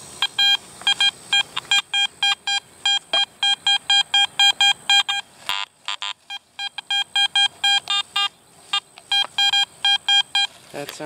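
Rapid repeated high beeps of a metal detector's target signal sweeping over an old farm field, pulsing in quick bursts with short gaps and near to the microphone.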